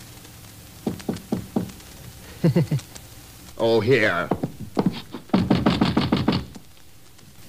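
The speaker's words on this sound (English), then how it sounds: "And knock on the concierge's door." Knuckles rap on a concierge's door at midnight in several short bursts of three or four firm knocks, close by, with a voice speaking briefly between them.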